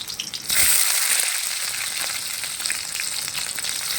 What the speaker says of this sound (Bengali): তেলেই ক্যাপসিকাম পেঁয়াজটা ভেজে নেবে।